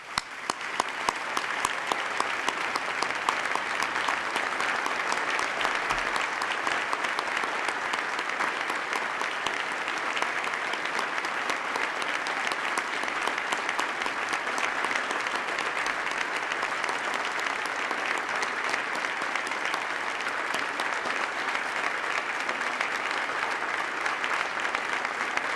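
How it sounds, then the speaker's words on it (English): A large audience at the New York State of the State Address gives a long, steady round of applause for first responders, a dense, continuous wash of clapping that holds at an even level throughout with no talk over it. "Please join me in a round of applause"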